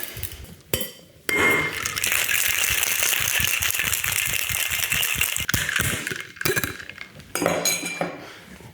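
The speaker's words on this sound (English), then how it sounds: "Shake through with ice." Ice rattles hard inside a cocktail shaker holding coconut cream, pineapple juice and Irish whiskey, a loud, continuous clattering shake of about five seconds with brief pauses before and after, and a second short burst near the end.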